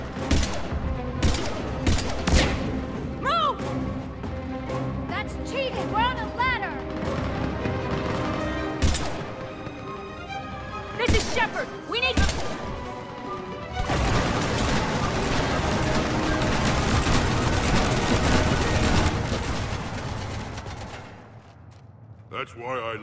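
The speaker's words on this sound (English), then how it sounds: "Why shoot something once when you can shoot it 46 more times?" Dense, loud gunfire from a Mass Effect 3 firefight: rapid repeated weapon bursts and shots with booming impacts. Voices shout over it early on, then a long sustained barrage fills the last stretch before fading.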